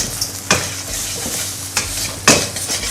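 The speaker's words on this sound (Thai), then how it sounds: "เราผัดอย่างนี้ ให้เขาสุกสักหน่อยนะครับ" Shrimp and colubrina greens stir-fried in a hot pan, a steady close sizzle with sharp scrapes and clanks of the spatula against the pan at irregular intervals, no voices.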